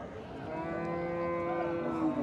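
A single long, drawn-out moo from a cow at a cattle market, close and steady, lasting a couple of seconds.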